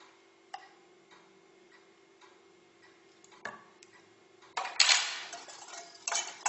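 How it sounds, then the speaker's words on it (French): A spoon stirs orange blossom water into an orange mixture for chocolates, giving light, evenly spaced clinks against the bowl that turn into a louder, busier scrape near the end. "Je remue"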